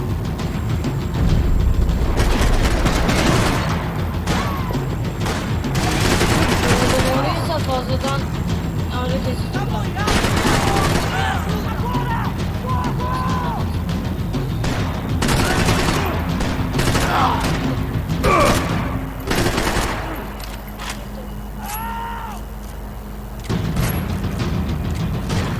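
Large gunfight in Max Payne 3, with dense bursts of gunfire and booms cracking in quick succession, loud and close, alongside shouting voices and someone talking over the chaos.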